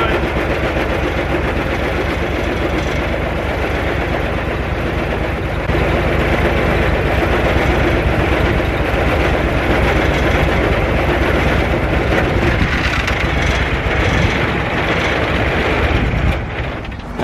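Kubota tractor engine starved of fuel, a loud heavy droning labor running continuously and close for over fifteen seconds, rough and uneven with no voices over it.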